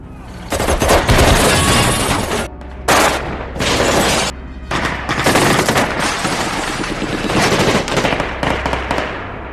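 Heavy gunfire from a 1930s gangster film shootout at Little Bohemia, with loud sustained bursts and volleys that pause briefly and resume, no speech.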